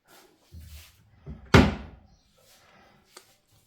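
A cupboard door housing an electric boiler in a villa is opened, giving a sharp wooden knock and rattle in the middle, with softer handling bumps before it and a small click near the end, in a quiet room.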